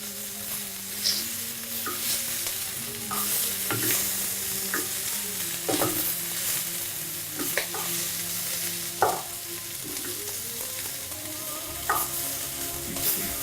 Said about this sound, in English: These beef pieces look as if they've been browned